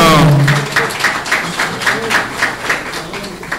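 A crowd at an opening ceremony claps loudly and steadily right after a voice, the applause holding strong and then gradually thinning out.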